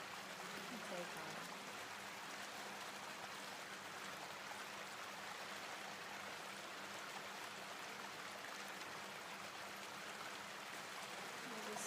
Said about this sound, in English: The sound of the water continues to flow behind us.